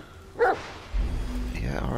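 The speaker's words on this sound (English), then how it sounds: "Stop barking at me." A dog in the video game The Medium gives a single short bark, followed by a voice speaking over soft ambient rain-like noise.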